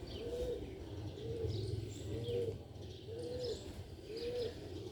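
A black-faced pigeon of the Sialkoti breed coos in four evenly spaced, rounded phrases, close and clear over a light background hum, with a few faint chirps between.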